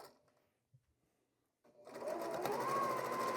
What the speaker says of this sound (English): I'm going to work my way down the 2 columns, chain piecing as I go.